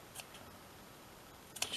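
Scissors snipping small bits of lace trim while crafting a shabby lace Christmas tree, a few faint quiet cuts near the start and a sharper cluster of snips at the end.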